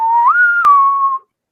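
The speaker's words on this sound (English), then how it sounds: "I do not know what the whistling is." A single whistled note from a video game playing in the background rises slightly and holds for about a second, clear and prominent, with a brief click partway through before it stops.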